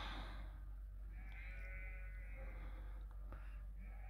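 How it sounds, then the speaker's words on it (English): Several sheep bleat from a short distance, drawn-out wavering calls over steady low background rumble, with no talking. "Blue Van Dan did a video yesterday with these sheep in camp."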